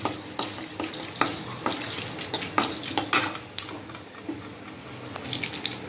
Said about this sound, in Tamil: முந்திரி பருப்பு போட்டு அதை நல்லா கலக்கி விட்டுட்டு